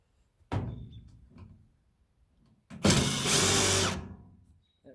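A power drill backs screws out of the top panel of an electric dryer: a short burst near the start, then a longer, louder whirring run of about a second and a half, close by with no talk.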